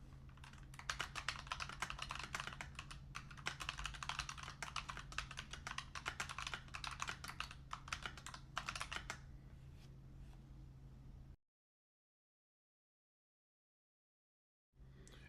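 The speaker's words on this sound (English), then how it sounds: "This is what a optical mechanical linear switches sound like." Rapid typing on an NSYCA WIN68 HE keyboard with optical mechanical linear switches: dense, even keystroke clacks up close over a faint steady hum, slowing near the end, then silence, then the hum returns briefly.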